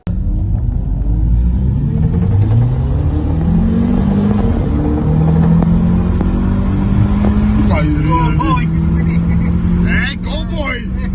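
Modified VW Golf MK1 with a swapped engine, its loud, continuous engine roar rising and falling through revs, with shifting tones and a brief dip near the end, while people shout excitedly over it.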